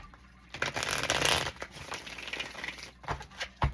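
Tarot cards are shuffled in a quiet room, a soft riffling and papery rustle that swells in a dense burst and then breaks into lighter, scattered flicks and taps, close and gentle.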